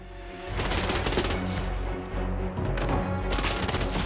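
Dense rapid gunfire crackles almost nonstop through a firefight in Hitman Freelancer, loud and close, with a brief dip midway before the bursts resume at full intensity.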